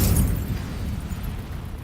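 Casting the Incendio fire spell in Hogwarts Legacy releases a close, heavy burst that roars and crackles briefly, then fades into a rumbling tail.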